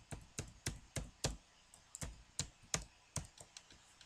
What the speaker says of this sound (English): so now I can type that in, and I can type in the new password that I just set up